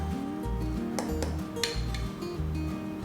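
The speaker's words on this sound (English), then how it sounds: "Stir it around." A spoon stirring mug cake batter, scraping and clinking against the container in repeated rhythmic strokes, close and moderately loud, with no talk.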